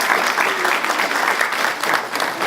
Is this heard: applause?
yes